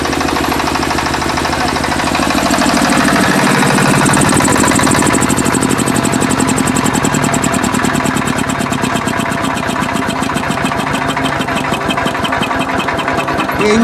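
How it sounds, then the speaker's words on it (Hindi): A 7.5 kW ZGC open generator set runs loud and close with a steady, rapid mechanical chatter and a dense engine drone. The sound holds constant throughout, with a slight shift in tone after the first few seconds. "जनरेटर बंद हो जाएगा, फ्रीक्वेंसी बता रही है 220 वोल्ट वोल्टेज बता रहा है"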